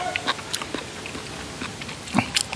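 Crunchy bites and chewing on a crispy Thai sago dumpling filled with bamboo shoots, a few close crackly crunches spread irregularly, with faint background noise.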